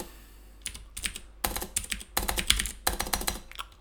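Fast bursts of typing on a computer keyboard during a programming stream, clattering in uneven clusters of keystrokes with short pauses between them, close and fairly loud, with no talking.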